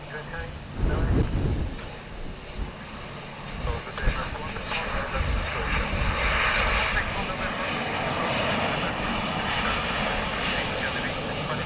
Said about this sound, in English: with Emirates in the background up there